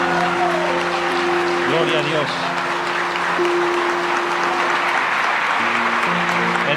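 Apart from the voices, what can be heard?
congregation applause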